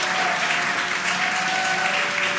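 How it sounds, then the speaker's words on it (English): A crowd claps and cheers steadily as the SpaceX Dragon Freedom capsule descends under its drogue parachutes toward splashdown, forming a dense, continuous wash of applause with a faint steady tone underneath. "You can hear the crowd here."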